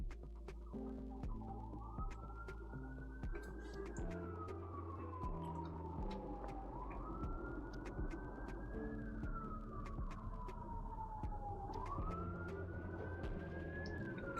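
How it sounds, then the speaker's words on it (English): An ambulance siren wails in a slow rising-and-falling sweep, repeating about three times in the background under a steady bed of other sound. "Got the sweet ambiance of the ambulance in the background."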